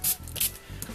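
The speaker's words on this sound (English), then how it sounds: "spray both sides" Two or three quick hissing spritzes of water from a spray bottle onto a craft card, close and fairly sharp, each a brief burst with soft rustling between.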